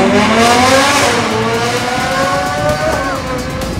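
GMA T.50 supercar driven flat out on a circuit, its engine screaming loud and close with rising and falling high-pitched harmonics as it revs through gears, one sharp upshift-like drop near the end.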